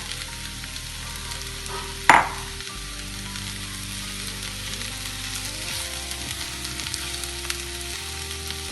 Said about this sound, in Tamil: அடுத்ததான் இந்த அரைச்சி வச்ச மட்டனையும் இதிலே சேர்த்துக்குவோம். இதை நல்லா கலந்துக்கலாம்.